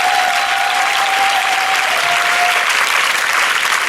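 A church congregation claps loudly and continuously in praise during a sermon, thick sustained applause that fills the room with no break, and a faint held tone sits underneath.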